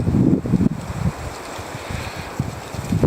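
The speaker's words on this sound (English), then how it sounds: "It's really windy. It's probably gusting at 30" Strong, gusting wind outdoors at a cabin, roaring and buffeting against the microphone in uneven surges with no talking.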